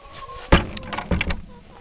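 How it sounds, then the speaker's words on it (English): A wooden chicken coop door in a snowy backyard is pushed shut, giving two sharp knocks about half a second apart followed by a brief rattle, close and loud. "Close this door."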